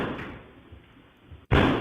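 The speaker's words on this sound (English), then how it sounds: "He actually kicked into the door." A door being kicked in lands as one sudden heavy slam near the end, a loud booming thud that follows a stretch of quieter muffled rumbling.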